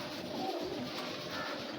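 Young pigeons from a top breeder's loft cooing softly and continuously, close by over a steady background hiss.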